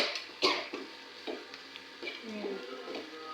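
Leaves being sautéed in a pan for a Tamil Nadu style mixed-leaf chutney: a soft, steady sizzle with scraping stir strokes, one sharper clatter near the start, and light kitchen clinks, close and fairly quiet.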